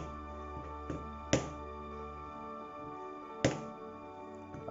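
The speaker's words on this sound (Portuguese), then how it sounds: "vamos martelar o boneco" Two sharp knocks, about two seconds apart, ring against a steady low hum as a hammer taps a hollow plastic Masters of the Universe action figure.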